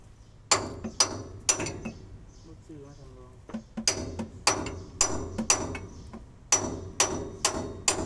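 Hammering on a truck leaf spring during repair work: sharp metallic blows in quick bursts of three or four, with a short pause midway, close and loud, with a voice talking faintly between strikes.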